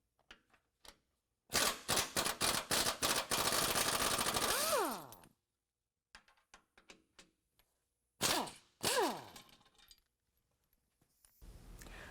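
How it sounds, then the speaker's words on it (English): A ratcheting wrench removes 17 mm sway bar bracket bolts from the frame of a 2022 Toyota Tundra, sounding as bursts of rapid clicking with metallic clinks and a whirring spin-down, separated by quiet pauses. "remove our sway bar bracket from the frame using a 17 millimeter"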